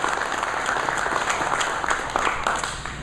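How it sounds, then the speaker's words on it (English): Audience applause fills a room at an evening veterans' business event, a steady, dense clapping that carries evenly throughout with no voices. "So a big round of applause for both of them."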